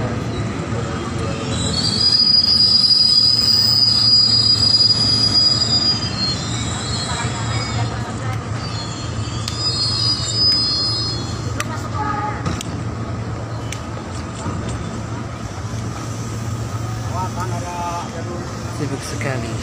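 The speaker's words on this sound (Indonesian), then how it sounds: "Kereta api Argo Parahyangan dari arah situ jalur 7 kereta api Argo Parahyangan." An Argo Parahyangan passenger train passes on track 7 at a busy station, its wheels squealing loudly and shrilly over a rolling, rumbling rail noise that builds early, then eases into a steady low drone while a station announcement plays.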